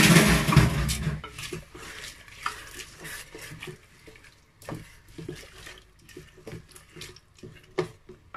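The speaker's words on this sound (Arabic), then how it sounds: "ودابا كنزيد عليها الماء كنمرقها" Water is poured into a pot of lentils that were briefly fried in oil, giving a splashy start followed by softer sloshing and stirring.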